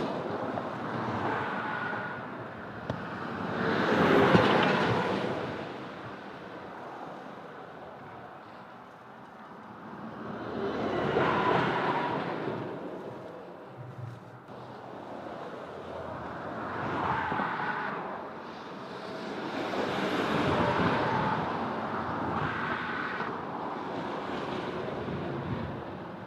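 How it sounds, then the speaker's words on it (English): Road traffic passes in slow waves, each vehicle swelling from a distant hiss to a loud close whoosh and fading again, about four passes over roughly half a minute. "Everyone knows what that noise is. Traffic, right?"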